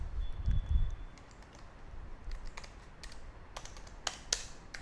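Someone types a command on a computer keyboard, quiet scattered key clicks that come in small bursts, with a few sharper taps toward the end.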